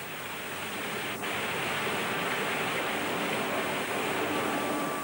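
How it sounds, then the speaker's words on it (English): Powerful water spray quenching a heated steel roller as it rotates, a steady loud broadband hiss that stays continuous throughout with no pauses. "As the surface of the steel reaches the right temperature, it's quenched by a powerful spray of water."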